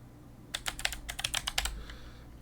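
Computer keyboard keys tapped in a quick burst of about a dozen crisp clicks, close and clear, over quiet room tone.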